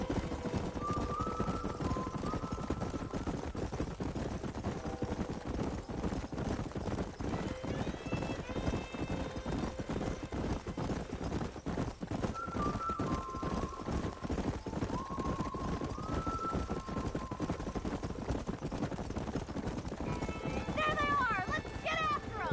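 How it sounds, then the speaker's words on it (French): Horses in the video game Red Dead Redemption, a steady rhythmic clip-clop of hooves with several whinnies rising over it, set against game music and ambience, with talking heard at times. "Des chevaux."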